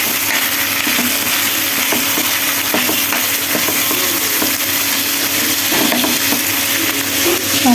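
Potatoes fry in a small amount of oil in a pan, giving a loud, steady, dense sizzle with occasional stirring clinks and scrapes throughout, with no talking.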